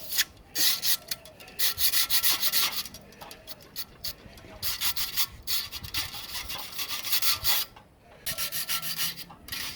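A brush scrubs a Ford ZF gearbox part from a Fairlane restoration, rapid rough rubbing strokes in close, uneven bursts with short pauses between them, no voices.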